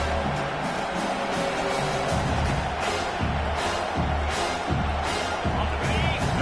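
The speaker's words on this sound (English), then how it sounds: "Listen to this crowd noise." Stadium crowd in the NCAA 25 college football video game, a dense continuous roar of cheering fans with rhythmic surges, loud and sustained, with commentary voices talking over it.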